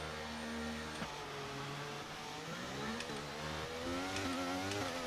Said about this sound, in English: Excellent start on the hard tyre. Really good launch off the line.